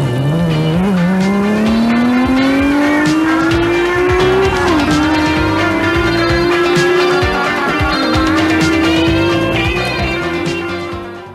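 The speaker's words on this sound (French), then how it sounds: "Dan Bernard Béguin met dat schitterende BMW M1-monster die zich in een remzone misrekende." A 450 hp BMW M1 Group B rally car engine howls loudly and close, its pitch climbing through the revs and holding high, with a short dip and brief tire squeal as it works through a braking zone.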